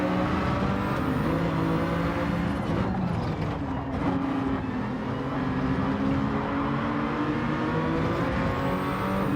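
BMW VGT race car engine in a racing video game, roaring continuously at high revs with pitch sweeping up and down through gear changes, loud and close, with no talking.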